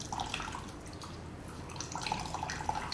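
Water drips from a bag of homemade cheese, soft irregular drips over a steady faint background hiss.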